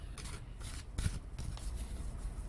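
Soft, papery riffles of tarot cards being shuffled repeatedly, close and quiet, in quick uneven bursts.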